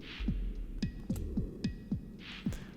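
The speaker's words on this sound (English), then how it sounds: "Oh, the heartbeats." Video game heartbeat effect: slow, heavy thumping pulses repeat at a steady rhythm over a low hum, with faint airy swells at the start and end.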